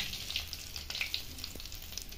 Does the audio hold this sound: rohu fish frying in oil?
yes